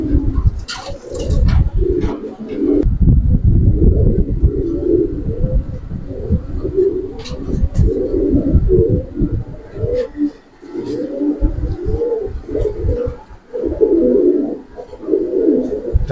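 Giribaz Sabchila Pankhi pigeons coo repeatedly in deep throaty bursts, close by, with wing rustles and handling noise mixed in.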